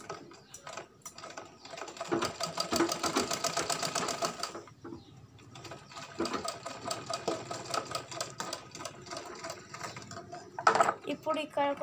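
A sewing machine stitches a cloth mask in close, rapid mechanical bursts that stop and restart, with pauses between runs of chattering needle strokes.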